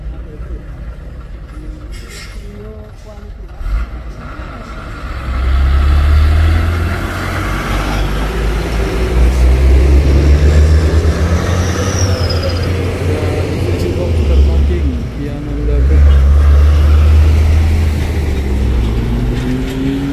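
Heavy trucks roll down a steep hill road, a loud, sustained low engine rumble that swells and eases as vehicles pass close by, with someone talking over the noise.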